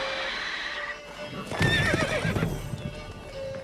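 Roach, a horse in The Witcher 3, gives a loud, clear whinny mid-clip, its bright warbling neigh rising over steady hoofbeats and ambient game sound.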